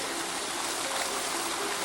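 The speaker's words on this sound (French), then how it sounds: "Les ruisseaux comme on a en Suisse." Swiss mountain stream flowing steadily, a dense broadband rush of water with trickling texture, close and constant throughout with no voices.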